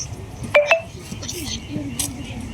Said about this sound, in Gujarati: ખાટાજીને ફોન કરવા